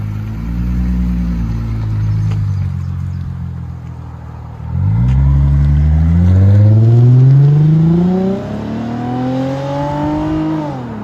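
2011 Lexus IS 250 2.5L with a Vibrant mid and Megan Racing rear exhaust, idling and then revving twice in rising, sweeping pulls, a loud nearby engine with no talking.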